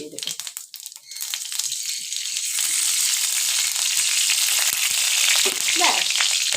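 Dried chili and cumin frying in hot oil in a pan, a loud steady sizzle that swells after a second and holds with crackling, while a voice talks over it.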